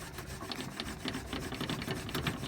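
Wooden drill rubbed back and forth in a bowl to make friction for fire lighting, giving a steady close scraping rasp with repeated strokes throughout.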